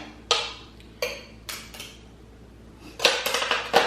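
A small knife scraping cooked pork off a surface, several short scratchy scrapes and clinks spaced irregularly, close and fairly crisp, with a quicker cluster near the end.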